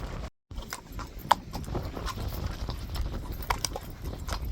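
Horse hooves clip-clopping on firm ground during a jumping session, a steady series of close, crisp hoof strikes with light rustling around them.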